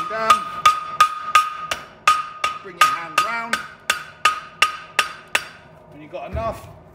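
A hammer rings out in a steady series of about a dozen sharp metallic strikes on a horseshoe held over the edge of an anvil during farrier work, loud and close, with each hit followed by a brief resonant ring.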